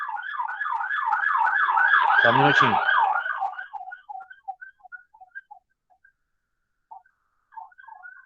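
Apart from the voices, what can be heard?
siren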